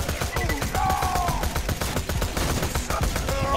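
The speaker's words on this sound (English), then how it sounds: "this SMG is fucking amazing. It shoots so straight" Rapid bursts of SMG fire in the video game Borderlands 2, a dense, steady stream of shots filling the whole stretch, loud and close with no pause, mixed with other game effects.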